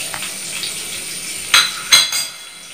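Stuffed squid and squid head frying in a pan, with a soft, steady sizzle under two sharp, brief bursts of spattering oil or a utensil stirring.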